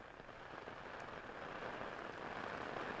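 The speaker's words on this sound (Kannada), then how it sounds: "ಹಾಸನದಲ್ಲಿ ವಿಪರೀತವಾದಂಥ ಮಳೆ" Heavy rainfall in Hassan, Karnataka, falling steadily onto surfaces as a dense, even hiss that swells slightly over a few seconds, with no voices.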